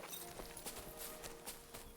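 Horse hooves clop at a walk along a shore in the video game Kingdom Come: Deliverance II, a faint, even rhythm of soft steps over a low ambient bed.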